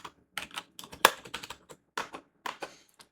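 Irregular bursts of keystrokes on a computer keyboard while Pine Script code is typed, close and crisp, with one sharper, louder tap partway through and no talking.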